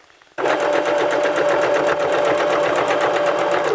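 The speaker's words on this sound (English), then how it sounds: "And again, you're sewing on a curve" A sewing machine stitching fabric around a curve starts abruptly after a brief quiet moment, then runs as a loud, steady, rapid mechanical whir with fine stitch pulses until the end.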